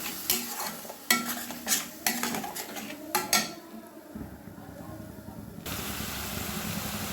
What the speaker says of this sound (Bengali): এবার মশলাটা আরও 3-4 মিনিট আমি ভালোভাবে কষে নেব